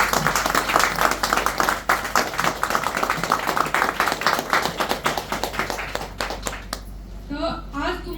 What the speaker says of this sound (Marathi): त्यांच्यासाठी जोरात टाळ्या झाल्या पाहिजे.